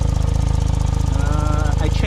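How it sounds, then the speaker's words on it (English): A Suzuki Cara engine with a failed head gasket runs at a steady idle with a rapid, even chugging pulse, loud and close, and a voice speaks over it briefly. "The engine sounds okay."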